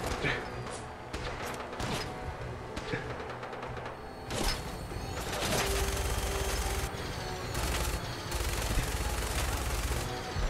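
Vertibird-mounted gunfire in Fallout 4, bursts of rapid automatic shots and heavy thuds rolling through a loud, dense battle soundscape over about ten seconds, with no voices.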